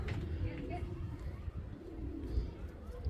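Soft cooing of racing pigeons for sale in Bangladesh, low in the mix, partly buried under a steady hum and faint background voices.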